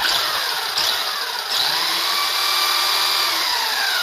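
A small WLtoys 12428 RC car's stock electric motor runs at full throttle, a steady high-pitched whine that stays loud and close for the whole stretch, with a couple of brief dips in pitch.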